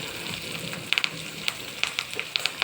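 Dry chili, curry leaves and coriander hit hot oil for a tempering, a close, steady sizzle with sharp spitting crackles and pops scattered through it, with no talking.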